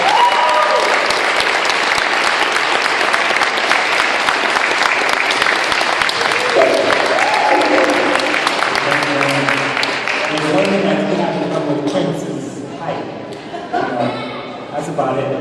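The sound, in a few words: audience applause for Robin D. Kelley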